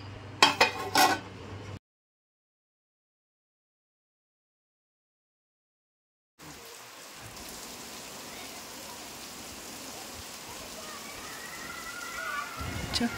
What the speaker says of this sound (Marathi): दुपारी 3-3:30च्या दरम्यान एवढा वादळ आणि पाऊस चालू झाला